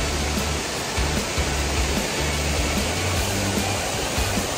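Asik-Asik Falls, a wide curtain waterfall in Cotabato, roars close and loud as a continuous dense rush of falling water with a low rumble underneath.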